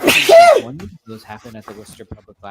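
A single loud, close sneeze breaks out during a city council meeting, followed right away by a person speaking.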